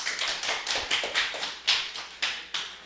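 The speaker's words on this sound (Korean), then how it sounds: "박수, 원호." A group of children and adults at a church summer Bible school clap for a boy named Wonho, a short burst of several sharp, uneven claps in a quick rhythm, fairly close and loud, with no talk over it.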